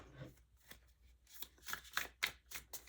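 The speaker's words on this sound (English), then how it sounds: "I'll continue to shuffle as I tune into the energies of those who chose group two" Tarot cards shuffled by hand at close range, a series of soft, quick riffling bursts at an uneven rhythm, faint and without talk.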